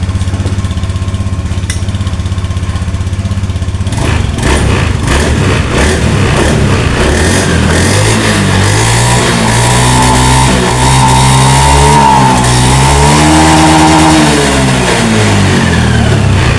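A motorcycle engine, just repaired after its fuel pump would not hum at ignition-on, cranks and starts, then idles and revs up and down in several loud, close throttle blips with no talking.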